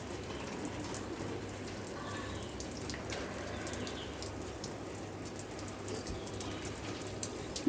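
A pet bird bathing in water during hot summer weather, with continuous soft splashing and dripping at low volume close by.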